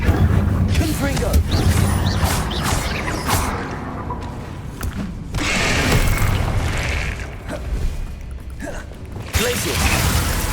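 Confringo fire spell from the Hogwarts Legacy game bursting in a run of booming explosions over continuous battle noise, with loud impacts recurring through the stretch and a voice speaking at times.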